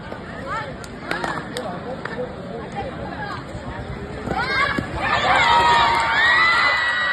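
Spectators at a women's kabaddi quarter-final between Happy Girls Mysuru and Sai Security Mumbai make loud crowd noise and cheering that swells toward the end, while a commentator talks over it.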